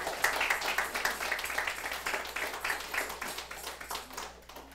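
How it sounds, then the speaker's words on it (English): A church congregation at a Sunday worship service claps hands in a fast, steady rhythm, the claps blending into continuous rhythmic applause that fades slightly at the end. "Let's give God a hand clap of praise"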